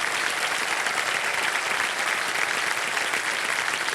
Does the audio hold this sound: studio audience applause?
yes